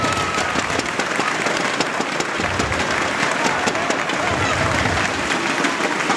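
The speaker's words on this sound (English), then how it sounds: "now the crowd is getting mad" Crowd at a tenpin bowling stepladder final, the 2012 Brunswick Euro Challenge, applauding and cheering steadily throughout, a dense continuous wash of clapping with commentary voices mixed underneath.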